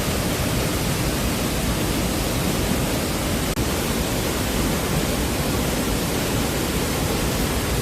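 Steady, dense roar of a fast-falling waterfall pouring over rocks near Seoul, broadband and constant at close range with no talk.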